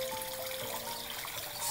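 Faint, steady trickle of water in a small DIY garden koi pond, soft and continuous with no other sounds.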